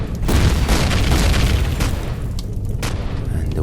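Loud booming blast as a turret is destroyed in the space survival game Empyrion, a dense rumbling explosion filling the whole moment with crackling debris.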